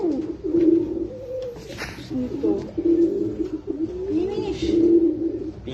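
A pigeon coos repeatedly in low, rolling phrases close by, with soft background noise and faint voices around it.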